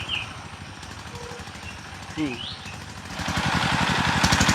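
A tractor driven by a child chugs with a steady, rhythmic engine knock while stuck in mud, growing louder and rougher toward the end as the wheels spin, with a brief chirp partway through.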